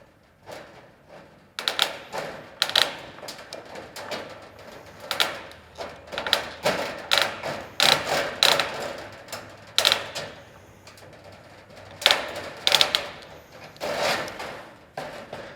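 Gutter mesh being cut on a Trimdek metal roof gives a series of sharp, crisp snipping clicks in irregular bursts, close and fairly quiet, with short pauses between cuts and no talking.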